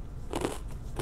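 Spicy cheese-flavored corn puff snacks crunched in the mouth, a few close, crisp bites clustered in about a second, the loudest near the middle and another at the end.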